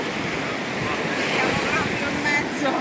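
Italian sea surf rolling in under strong wind, a loud continuous wash of breaking waves with gusty microphone rumble throughout and no one speaking.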